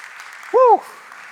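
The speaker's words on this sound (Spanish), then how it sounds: "Del otro aplauso al Señor." Congregation applauding the Lord at an evangelical church service: a steady, moderate wash of clapping, with a brief sung or shouted voice rising and falling over it in the middle.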